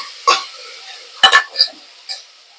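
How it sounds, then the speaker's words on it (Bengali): Food is stirred and mixed in a pan, with a few sharp scrapes and clinks of a utensil against the metal. The strokes are sparse and close, with brief pauses between them and no talking. "এটা ভালো করে আমি মিক্স করে নিলাম"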